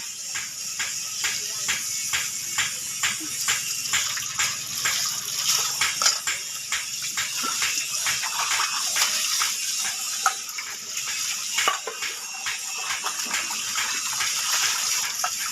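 Kitchen tap water runs steadily while dishes are washed, a continuous hiss with small clinks and shuffling of plates throughout, fairly close and moderately loud.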